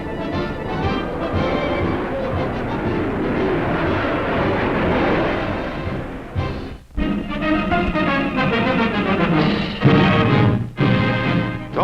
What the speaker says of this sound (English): Big brother of the Lockheed Shooting Star, the F-94 is ready, willing, and able, a powerful guardian of our skies.